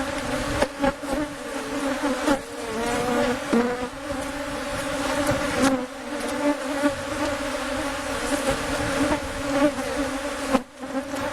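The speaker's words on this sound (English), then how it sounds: "There are a lot of bees flying around." Swarm of bees flying around hives in the desert, a dense close buzzing drone with individual insects zipping past the listener, loud and continuous.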